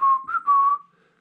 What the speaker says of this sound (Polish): On na dzień dzisiejszy nauczył się gwizdania.